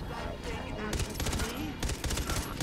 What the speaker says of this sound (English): we shoot him a lot of times with that weapon